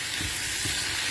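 Fish fingers frying over medium heat in a frying pan, a loud, steady, dense sizzle of hot oil with faint low stirring thumps, no voices.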